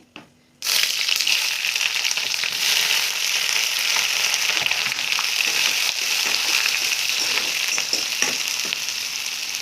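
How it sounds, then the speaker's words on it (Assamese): Onions sizzle loudly in hot oil over a medium flame. The steady crackling hiss starts abruptly after a short quiet moment and continues without letup. "পিঁয়াজখিনি কালাৰটো চেঞ্জ নকৰালৈকে মই এইখিনি ভাজি আছোঁ মিডিয়াম ফ্লেমত"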